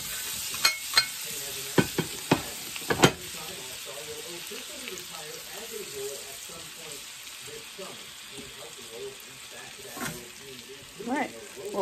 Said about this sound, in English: Cook up the okra here.